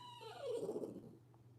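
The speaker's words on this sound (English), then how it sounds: "I am so sorry if you can hear my dog whining in the background." A dog whines faintly in the background of a quiet indoor power yoga session: a single falling whimper lasting about a second, with no talking.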